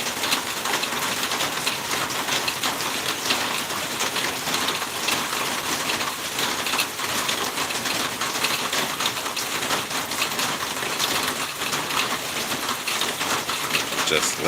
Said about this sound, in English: Just listening to the relaxing sounds of the rain.